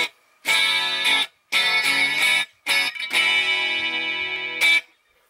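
Clean electric guitar tone run through a Digitech RP90 effects unit with no reverb, played in four phrases of sustained strummed chords with short silences between, ringing loud and close.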